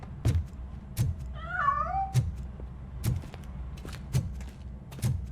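A cat in RoboCop: Rogue City gives one clear, wavering meow near the start, surrounded by a regular series of soft thumps and footfalls as it flees.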